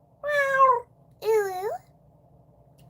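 A person imitates a cat with a string of vocal meows, two drawn-out mewing calls close to the mic with a short pause between them against a quiet background.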